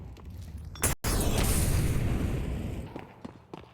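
A molotov cocktail bursts and burns on the Mirage map in a Counter-Strike match: a sharp pop, then a loud, steady roaring hiss of flames that slowly fades over a few seconds, with no talk.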